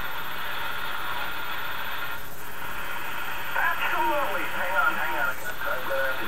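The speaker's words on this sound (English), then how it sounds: "the background hiss" A vintage Collins R390A radio receiver gives off a steady band of background hiss and static, with faint warbling signal tones and a distant voice drifting through midway.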